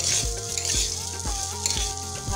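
Whole spices, ground black pepper and ginger paste sizzle loudly in hot oil in a pan for basanti pulao, with a steady crackling fry and a few rhythmic stirring scrapes close up.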